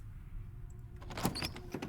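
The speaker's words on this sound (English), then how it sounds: "The door." A door opens in the Slay the Princess video game with a soft mechanical creak and scrape that follows a quiet, low hum, heard close and without talking.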